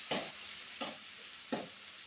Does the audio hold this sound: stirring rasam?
yes